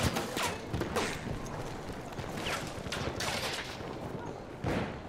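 Rapid bursts of gunfire crackle through a first-person shooter match set on a multiplayer map, with repeated volleys and sharp single shots in dense layers and no let-up across the clip.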